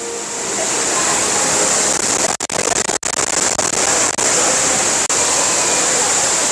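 A steady, loud rush of falling water from an indoor waterfall at Singapore airport fills the space, broad and constant, with a few brief dropouts.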